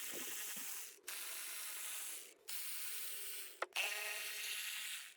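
A ratchet wrench with a socket loosens a valve cover bolt on a BMW M52/M54 inline-six engine, producing a close, steady buzzing click in three long strokes separated by brief pauses.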